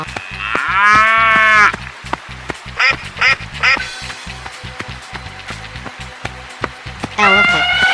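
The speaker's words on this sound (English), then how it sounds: "cow" A cow moos loudly in a long drawn-out call, then goes quiet for several seconds with scattered short sounds, and at the end a second moo starts.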